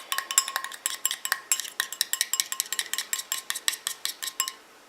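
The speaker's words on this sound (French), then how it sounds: "Et je mélange comme ça jusqu'à ce que ma crème épaississe." A utensil whisks eye contour cream in a small bowl, producing a quick, rhythmic series of sharp clinks and taps, close and clear, that stops abruptly at the end.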